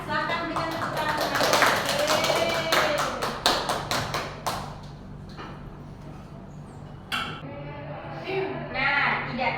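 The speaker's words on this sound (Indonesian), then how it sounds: "Silakan berikan tepuk tangan." A classroom group gives a burst of applause, with rapid overlapping claps that fade out, then a few scattered claps, and voices heard around it.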